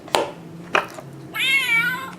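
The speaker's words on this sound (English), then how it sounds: "How come they get a meowing box?" A meowing Exploding Kittens first edition game box gives two short clicks and then a recorded cat meow with a rising, wavering pitch, close and clear with no talking.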